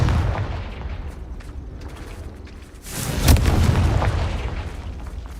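A Confringo fire spell explodes in the game Hogwarts Legacy, a booming blast just after the three-second mark that rolls into a rumbling tail, following a few seconds of quieter game ambience.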